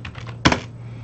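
A short burst of computer keyboard typing, a few soft keystrokes followed by one sharper clack, close and fairly quiet over a faint steady hum.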